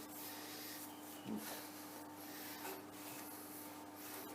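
Coarse sharpening stones scrape back and forth across a centre lathe part during maintenance, giving a faint, steady rubbing rasp with a couple of slightly stronger strokes and no talk.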